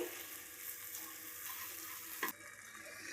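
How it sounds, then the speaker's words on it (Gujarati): Green corn roasting in ghee on a low gas flame for a sweet halwa: soft, steady sizzling and faint frying crackle close up, with a brief scrape of stirring near the end and no voices. "આપણે ઘી છૂટું પડી જાય ત્યાં સુધી આપણે ધીમા ગેસે શેકવાનું છે"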